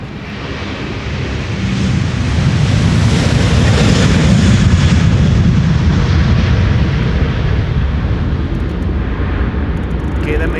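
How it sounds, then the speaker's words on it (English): A KLM Airbus A330 takes off from Amsterdam Schiphol's Polderbaan runway bound for Washington, its loud jet roar swelling and holding steady, rough with wind buffeting. "KLM A330 on the way to Washington."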